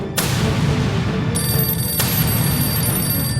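Loud telephone ringing with a bright electronic tone over a heavy rumbling background, two sharp bursts marking the start of each ring.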